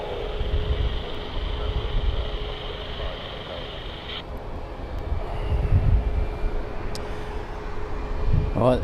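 A Jet2 airliner at Birmingham Airport begins its takeoff roll, a loud steady engine roar with a high whine that drops away partway through, heard from a distance under continuous wind noise.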